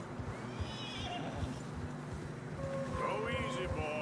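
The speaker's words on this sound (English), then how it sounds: "Horses are getting tired." Horses whinny and neigh in Red Dead Redemption 2 while riding through snowy terrain, with hooves clip-clopping underneath; a loud neigh rises near the end over steady rustling background.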